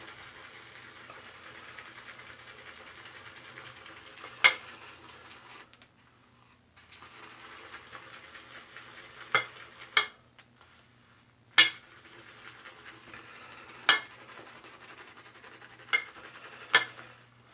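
Soft swirling scrapes of a shaving brush whipping Taylor of Old Bond Street "Royal Forest" shaving cream into lather in a bowl, broken by several sharp clanging knocks spaced a few seconds apart, close by.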